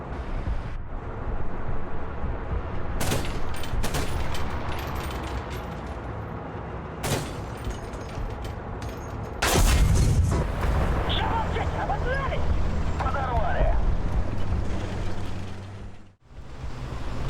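Tank cannons firing at enemy tanks closing on a capture point in War Thunder, sharp heavy booms landing several times over a rumbling battlefield, with a loud blast near the middle and a commentator's voice running underneath.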